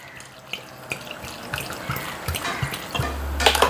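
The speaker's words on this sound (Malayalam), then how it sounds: "നമുക്ക് വെള്ളം ഒഴിച്ച് വേവിക്കാം" Water is poured into a cooking pot holding shallots, garlic, green chillies, curry leaves and salt for sambar, giving uneven splashing and gurgling pulses that build and grow louder toward the end, with no talk.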